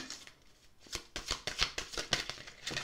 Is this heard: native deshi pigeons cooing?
no